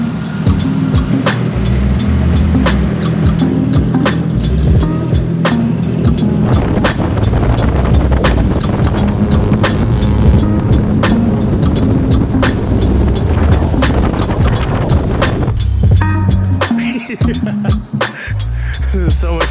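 A group of cars, a Corvette among them, drives together on a cruise, their engines giving a loud, continuous rumble close by that drops away near the end, with faint voices underneath.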